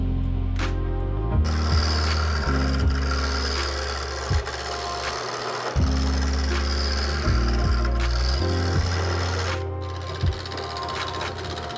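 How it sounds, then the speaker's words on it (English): A wood lathe spins a rolling pin blank down to a cylinder with a spur chuck, a steady close motor hum overlaid with scraping tool cuts that come and go in bursts, with no talking. "I attach the spur chuck and mount it to the lathe, then proceed to turn it into a cylinder."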